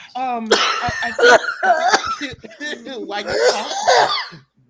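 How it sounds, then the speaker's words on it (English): A person coughs several times in quick bursts, mixed with laughter and voices close to the microphone. "why you coughing? You okay?"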